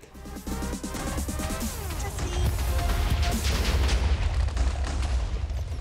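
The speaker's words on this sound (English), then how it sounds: "Oh, this gun feels so overpowered." Rapid bursts of an overpowered gun firing in the Minecraft B-Team modpack, a loud, dense stream of repeated shots with booming low rumble building over several seconds, no talking.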